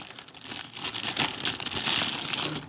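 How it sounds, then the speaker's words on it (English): Plastic bag crinkling and rustling as model kit parts are pulled out of it, continuous close crumpling with no speech. "let's quickly get the stuff out of the plastic bag"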